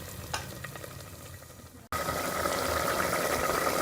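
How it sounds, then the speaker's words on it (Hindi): Water for daal gosht heats in a handi pot until it boils, a dense bubbling hiss that jumps suddenly louder partway through and then carries on steady and close, with no voices. "ये हमारा पानी बॉयल हो गया।"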